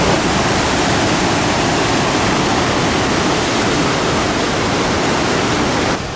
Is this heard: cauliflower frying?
no